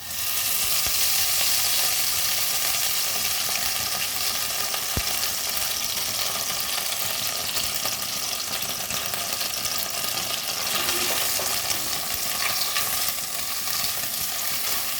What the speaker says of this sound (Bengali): কড়াইতে তেল গরম ছিলই, আমি এই পুরটা এবার এর মধ্যে ঢেলে দেব।